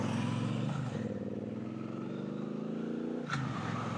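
Motorcycles passing on an open road, heard from a rider's Triumph Bonneville Bobber: a steady loud engine drone with harmonic whine, a brief swell of a second bike near the start and another sharp pass near the end.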